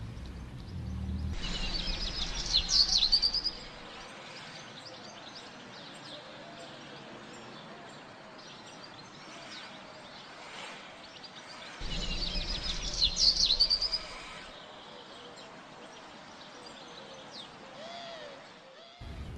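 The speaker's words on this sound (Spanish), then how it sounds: "Ya te dije varias veces que es un pájaro." Bird song in two bursts of high chirping and twittering over steady outdoor background noise, fairly distant, with quiet stretches of ambience between them.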